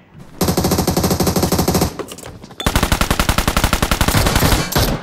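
Rapid automatic gunfire in PUBG Mobile, loud and close, in two long sustained bursts separated by a brief pause, ending with a short final burst.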